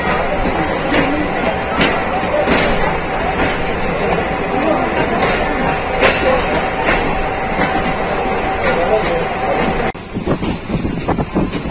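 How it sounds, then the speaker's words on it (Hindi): A Pakistan Railways Subak Raftar passenger train bound for Lahore rolls past close by, a loud steady roar with rhythmic clickety-clack of wheels over rail joints, its noise dropping away near the end. "ट्रेन है ये लाहौर की। सुबह रफ्तार है ये"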